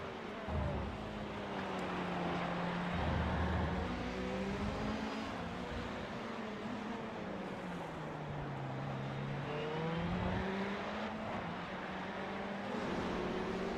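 LMP2 prototypes and GTE race cars lapping Laguna Seca in iRacing, a steady engine drone with repeated rising and falling revs as cars shift and pass, continuous throughout.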